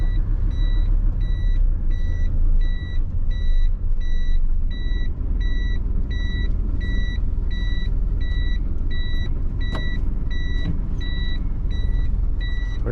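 A truck reverses in Japan, its high reversing beeper sounding in an even, repeating pulse of paired tones over a continuous low engine rumble from close inside the cab.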